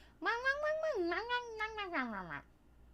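A person imitates a cat's chatty meow with one long, wavering, drawn-out call of about two seconds, rising and falling in pitch, close and clear.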